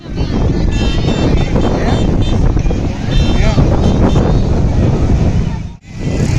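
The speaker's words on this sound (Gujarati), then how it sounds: "અત્યારે આપણે જો શિવરાજપુર બીચે છે, બધા બોટિંગ ને બધું કરે છે" Strong wind buffets the microphone at Shivrajpur beach near Dwarka, with surf rolling in beneath a roaring, steady blast that briefly drops out near the end.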